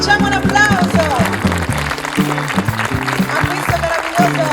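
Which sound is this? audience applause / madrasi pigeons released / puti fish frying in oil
audience applause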